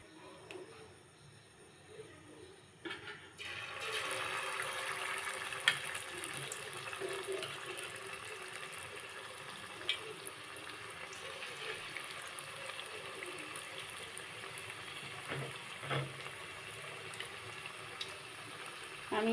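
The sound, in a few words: chicken pakoras frying in oil in a frying pan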